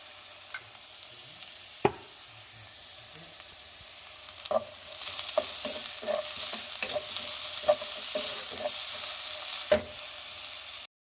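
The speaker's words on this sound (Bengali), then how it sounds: "এটা মোটামুটি একটু ভাজা ভাজা মতন হয়ে গেছে, কাঁচা গন্ধটা চলে গেলেই হলো, বেশি ভাজতে হবে না।" A generous amount of garlic frying in a pan with a pinch of salt for soup: a steady low sizzle with repeated sharp spatula scrapes and taps as it is stirred, close and quiet.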